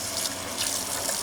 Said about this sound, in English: start adding in some water